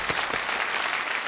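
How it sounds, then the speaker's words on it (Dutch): A studio audience applauds during a comedy show about the Romans, a continuous, fairly loud clatter of many hands clapping with no talking over it. "applaus."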